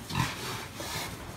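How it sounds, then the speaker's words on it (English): Farm pigs grunting briefly, a couple of short close grunts over low barn background noise. "And here's some of the pigs."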